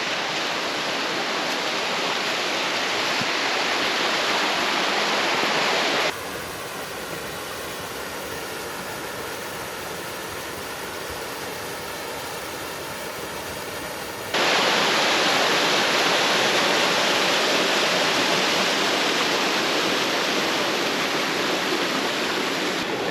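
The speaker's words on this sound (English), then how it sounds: "And this waterfall is named Caney Falls, as this is Caney Creek that flows into Caney Creek." Caney Falls on Caney Creek in Arkansas roars as a dense, steady rush of water, loud and constant with no voices, softening briefly in the middle before returning at full strength.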